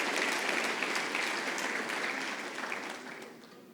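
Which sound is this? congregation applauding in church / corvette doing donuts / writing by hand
congregation applauding in church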